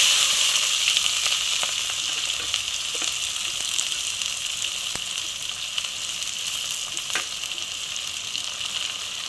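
Chopped onions frying in oil for chicken curry, a steady bright sizzle close by with occasional crackles and pops, no talking.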